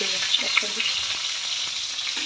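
Fish fries in a pan with a steady, close sizzle and faint crackles, continuous and even throughout with no talk.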